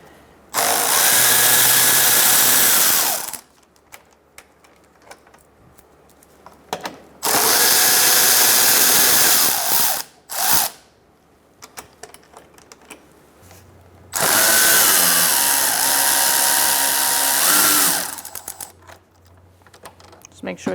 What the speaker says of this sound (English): now we're going to use a 10mm socket to remove these two bolts